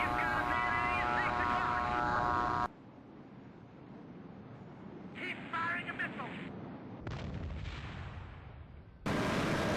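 A Sidewinder missile fires from a jet in the Strike Fighters 2 flight sim: a loud cockpit tone cuts off into a rushing launch roar with faint beeps over it, then the steady tone returns.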